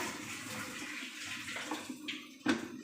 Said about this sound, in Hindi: मैंने उस हिसाब से पानी डाला